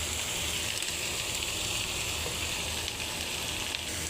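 Onions being stirred in a frying pan give a dense, even sizzle that holds steady and close the whole time, with no talking.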